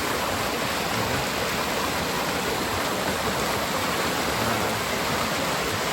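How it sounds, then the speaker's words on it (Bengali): A waterfall at Shivkhola near Siliguri pours with a dense, steady rushing hiss of flowing water that stays even throughout, with no voices. "আর ওই ঝর্ণার জল যাচ্ছে।"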